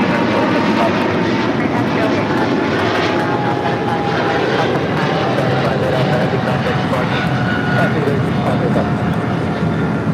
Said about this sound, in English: So right now, rolling down 25 right is the big Q, Qatar Cargo, flight